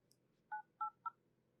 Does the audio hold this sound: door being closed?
no